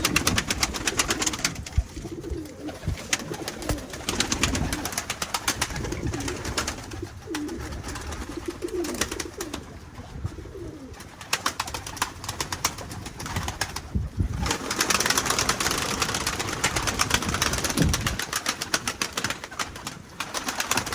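Pigeons take off, flapping and fluttering their wings repeatedly while cooing continues throughout, with a gusty, windy outdoor background.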